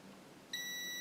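A continuity tester gives a steady electronic beep when its probes touch connected legs of a component on a power supply board. The high tone starts abruptly halfway through and holds, clear and close over faint background.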